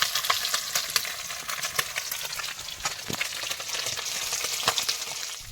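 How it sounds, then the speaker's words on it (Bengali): Small fish frying in hot oil in a pan aboard a river fishing boat in the Sundarbans, giving a steady loud sizzle with crackles and spits throughout. "তো মাছ ভাজা কিন্তু প্রথমবারের মতন কমপ্লিট এটা"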